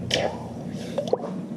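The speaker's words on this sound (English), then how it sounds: "Now, because that one's hot, I'm gonna dunk it in the water." A hot metal art piece, just heated molten red with a welding torch, is dunked into water, giving a brief liquid plop and squish with a few drips, close and fairly quiet, with no talking.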